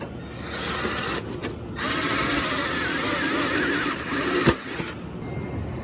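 A power tool grinds steadily through stacked metal plates, drilling holes for a car chassis, close and loud, with a few brief pauses and a sharp clank near the end.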